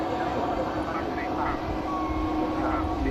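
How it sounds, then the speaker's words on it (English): A TUI Boeing 787 Dreamliner departs Manchester Airport with a continuous, loud jet roar that stays steady throughout. A voice talks over it. "here's the next TUI Dreamliner heading out."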